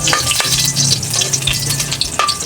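Garlic sautéing in a hot pan sizzles loudly and steadily, with clicks and scrapes of stirring throughout the short stretch, close up and with no talk.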